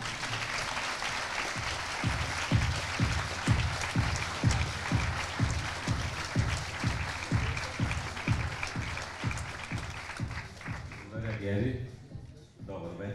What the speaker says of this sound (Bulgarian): Госпожи и господа, посрещнете с бурни аплодисменти председателя на Академията за мода